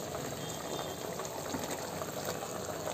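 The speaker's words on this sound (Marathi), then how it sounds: "आता हे कांद्याची पेस्ट केलेली आपण दळून घेतलेली आहे ही टाकून द्यायची." Ground onion paste goes into a simmering chicken masala pan, giving a soft, steady bubbling and sizzling hiss that stays faint and even throughout, with no talking.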